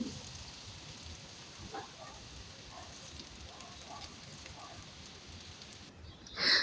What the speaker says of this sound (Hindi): अभी हम इसको मीडियम टू लो फ्लेम पर फ्राई करेंगे ताकि ये क्रिस्पी बने